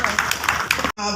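Audience applause at an induction ceremony of a Nigerian food and service providers' association, dense clapping for under a second that cuts off abruptly, followed by a voice over a steady hum.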